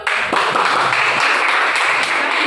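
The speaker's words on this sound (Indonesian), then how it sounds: "Tepuk tangan." A class of students clapping their hands together, dense continuous applause close by and loud throughout, no talking.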